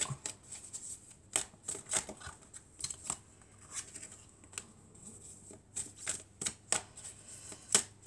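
Tarot cards are shuffled by hand, quiet and close, in a run of crisp riffling snaps and soft paper flicks that come in irregular bursts with brief pauses between them.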